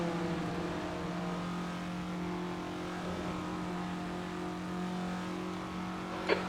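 Dacia Logan car engine revving on a racing lap, a steady sustained engine drone with a slight rise and fall in pitch, heard up close and without talk, ending in a brief sharp click.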